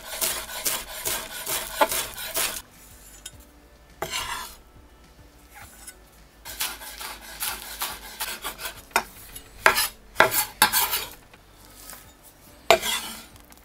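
A spoon stirs a thick sauce of natural yogurt, mayonnaise, dill and chives in a bowl, giving soft wet scraping and clinking in irregular bursts with quiet pauses, close by.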